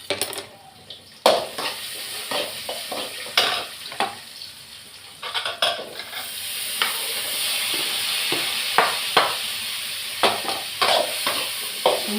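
Tomatoes sautéing in a pan for thakkali chutney with green chilies, a steady hiss of frying with irregular spoon knocks and scrapes on the pan, close and loud, no voices.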